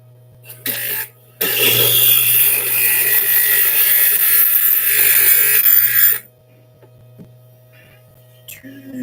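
Brass rifle cartridge cases being trimmed for 300 Win Mag reloading, a steady loud motorized whir running about five seconds alone over a low mains hum, then cutting off.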